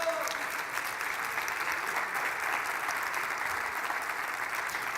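Steady applause from a church congregation fills the space for several seconds, a dense continuous clatter of hands with no break.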